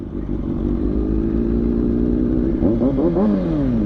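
Motorcycles, a Yamaha R7 and a Kawasaki 636, roar past close by in a loud, sustained engine drone, with rising and falling revs as the bikes sweep through near the end.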